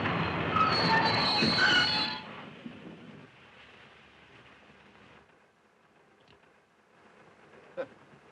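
A train rumbles and squeals loudly at first, then fades into a faint, distant rolling noise with an occasional clank.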